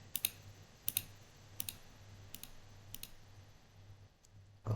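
A computer mouse clicks softly and repeatedly at an uneven pace, faint and close, over a low steady hum, with no talking.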